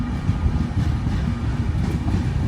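The Andhra Pradesh Sampark Kranti superfast express rumbles loudly and steadily through Rajampet station without stopping, heavy low roar of wheels and carriages rolling along the track.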